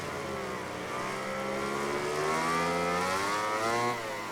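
Motorcycle engines racing in the MotoGP 19 video game at a wet Jerez circuit, a continuous high revving whine with rising and falling pitch as bikes run close behind, loud and steady without talk.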